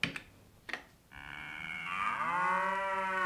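A cartoonish cow moo from an After Dark screensaver, a long, loud drawn-out call with bright harmonics that sweeps downward after a couple of short clicks.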